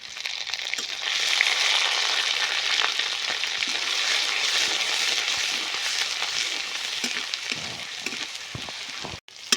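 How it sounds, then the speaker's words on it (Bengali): Onion and garlic frying in oil in a village-style Bengali kitchen, a steady loud sizzle with faint crackles and occasional stirring scrapes that runs the whole time, with no talking. "পেঁয়াজ রসুন সুন্দর করে ভাজা ভাজা ইয়ে গেছে"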